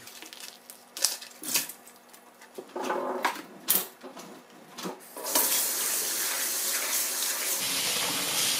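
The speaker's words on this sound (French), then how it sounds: "je vais commencer par rincer mes pâtes comme je vous ai dit" Konjac pasta is rinsed under running tap water in a kitchen sink, first with scattered clinks and splashes, then a steady close stream pouring continuously to the end.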